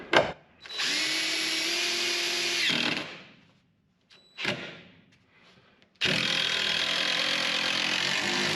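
A power drill drives screws into a wood board, with two long whirring runs, a brief burst, then another sustained run starting abruptly, loud and close with quiet gaps between.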